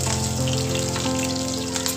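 Garlic, lentils and chillies fry in tempering oil with a close, continuous crackling sizzle, layered over steady tonal hum in the background.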